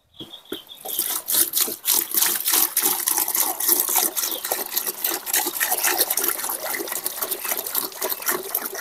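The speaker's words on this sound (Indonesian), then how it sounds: "ini air cucian berasnya, ini dituang aja ke tempat ini" Rice washing water poured into a container, a steady close gushing splash that runs continuously for several seconds after a brief start.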